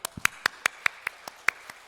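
About ten crisp hand claps in even rhythm during a Sunday church service, close and clear against quiet.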